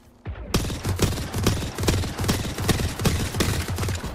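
Rapid, regular volleys of gunfire in a multiplayer shooter video game, about eight to nine loud bursts in quick succession, close and dominant with no clear talk.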